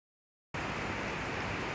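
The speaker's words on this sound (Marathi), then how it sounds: "तर बाहेर पाऊस चालू आहे" After half a second of silence, steady rain falls outside by a polyhouse, a dense, even hiss of drops that continues without a break.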